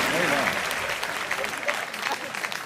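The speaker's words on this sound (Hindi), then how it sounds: "तालियां कम है आपकी" An audience at a Hindi kavi sammelan poetry gathering claps in a dense, steady wash, with a voice carrying over the applause.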